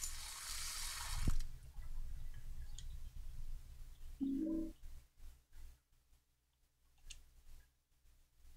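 Running water while a coin is washed in Silent Hill 4: The Room, a broad hissing rush in the first second or so, then quieter faint clicks and small tones afterward.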